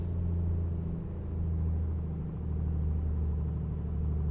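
A small airplane's piston engine idles after being throttled back to 1500 RPM during a ground run-up, a steady low droning rumble that fills the whole stretch with only slight dips in level.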